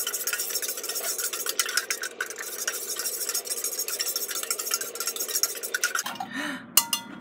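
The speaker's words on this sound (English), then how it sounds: "I'm going to take this knife that isn't quite sharp and stir it" A dull-edged knife stirs coffee in a cup, giving a steady run of quick metallic clinks and scrapes against the sides before stopping near the end.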